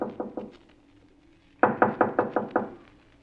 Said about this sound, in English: Now knock.